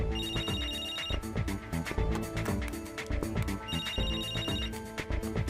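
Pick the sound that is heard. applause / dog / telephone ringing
telephone ringing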